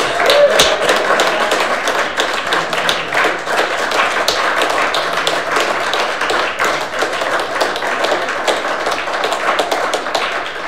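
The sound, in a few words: audience applause at an oratory contest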